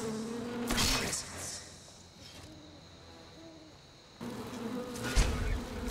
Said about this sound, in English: I can hear your bees.